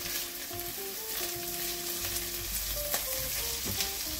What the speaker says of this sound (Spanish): Y a continuación, el arroz. Vamos a cocinarlo un poquito con el sofrito.